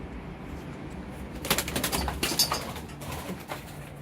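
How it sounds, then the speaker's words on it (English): A pigeon that has flown into a house coos indoors, a few soft, close calls clustered in the middle of an otherwise quiet room. "Because I think you are a pigeon,"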